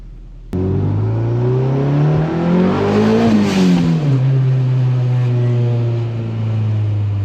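A Toyota MR2 engine revving hard as the car accelerates, one loud continuous climbing roar that peaks and then settles into a steady high drone, close and without talk.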